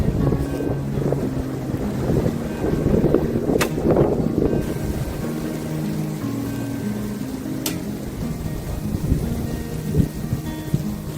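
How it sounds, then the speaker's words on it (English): Heavy rain pours steadily outdoors at an archery range, a dense continuous hiss with scattered patter, two brief sharp cracks standing out above the wash and no talk. "the rain is now coming in pretty heavy"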